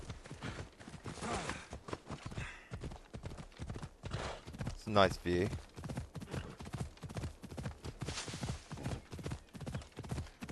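Hooves of a fire horse clip-clopping at a gallop in the Assassin's Creed Odyssey game, a steady rapid beat running throughout beneath someone talking.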